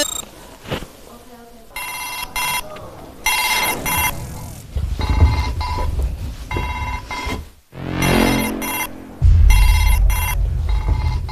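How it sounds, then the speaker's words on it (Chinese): A mobile phone rings an incoming call with repeated bursts of an electronic ringtone, broken by loud talk and laughter on a lively game show set. "在给我打电话"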